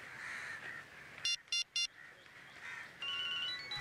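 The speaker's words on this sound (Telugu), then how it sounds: "రింగ్ అవుతుంది సార్." A mobile phone ringtone heard in an indoor crime-drama scene: three short, bright electronic bursts in quick succession, then a sustained ringing tone near the end, over a low hiss.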